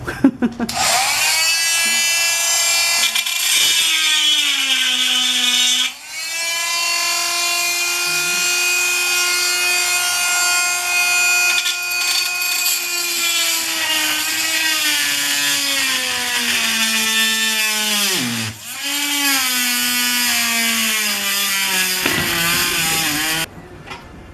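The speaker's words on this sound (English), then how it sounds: "This oscillates back and forth. It's a cool tool." An oscillating multi-tool cuts through an old window frame during a window replacement, giving a loud, steady high-pitched buzzing whine that runs almost continuously, with brief dips in pitch where the blade bogs down and one short pause.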